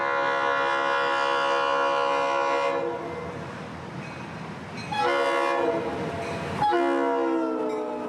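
The FEC Christmas train, a business train pulling cars filled with toys, sounds a long, loud multi-tone horn, then rumbles past, then blasts the horn again.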